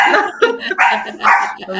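A dog barks at the doorbell indoors, a run of loud, close barks and yips in quick bursts across the whole moment, with a faint voice underneath.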